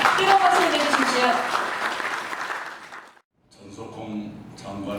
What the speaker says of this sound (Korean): 뜨거운 박수 해주십시오.